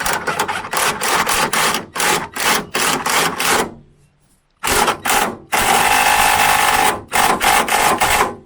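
Rapid mechanical ratcheting or tool bursts while tightening a part on a Mk3 Cortina, loud and close, coming in repeated rhythmic runs with a brief pause and one sustained stretch.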